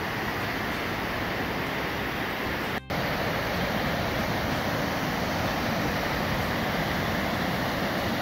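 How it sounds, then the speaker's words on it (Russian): Aya mountain waterfall at Rosa Khutor roaring steadily with loud, dense rushing water filling the whole clip, broken only by a brief dropout. "Вот он, водопад Айя"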